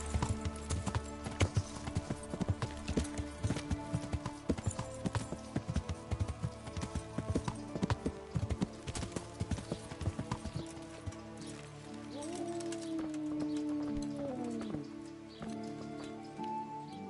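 Horse hooves clip-clopping in the medieval game Kingdom Come Deliverance, a steady rhythmic trot of hoof strikes over game music and ambience that slows and fades toward the end.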